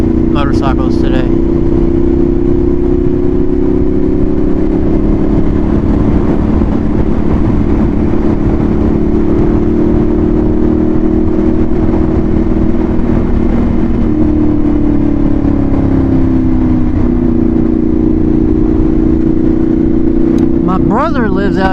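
A motorcycle engine drones loudly and steadily while riding on a nice day, a constant mid-pitched hum with wind rush, its pitch drifting slightly as speed changes.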